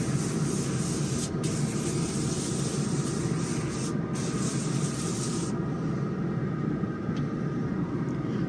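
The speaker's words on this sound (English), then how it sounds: "we got to give it a little spray down with some Graza Frizzle spray" Graza Frizzle cooking oil spray hisses in one continuous, even burst onto a preheated grill fired with hickory and oak before wings go on.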